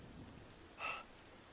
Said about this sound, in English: It was a rainy day in Mustafal, lightning thundering from up above.